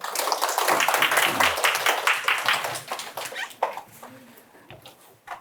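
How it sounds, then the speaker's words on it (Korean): Audience clapping for a dental-science professor at a public science lecture, a dense patter of many hands that fades out over several seconds, with some talk and faint murmuring mixed in. "박수로 맞이해주세요."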